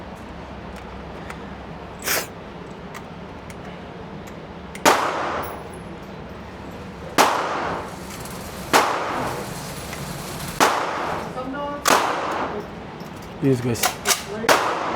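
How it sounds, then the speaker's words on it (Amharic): Pistol shots at an indoor gun range, about eight sharp loud bangs spaced a second or two apart, with a closer rapid cluster near the end and a brief voice in between. "የሱን ተኩስ ነው። ድምፁ ግን ይጫዋል በጣም"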